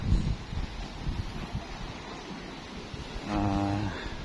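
Steady wind rushing past the microphone at a seaside rest area on Camiguin, a broad even roar with a slight swell near the end and no one talking.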